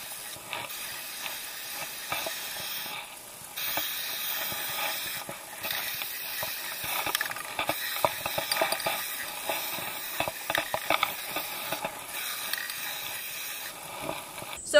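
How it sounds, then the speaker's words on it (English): Polyurethane spray hissing from an aerosol can onto seashells, a fairly faint, steady spray broken into several bursts with short gaps between them. "So now I've sprayed the first coat on my shells"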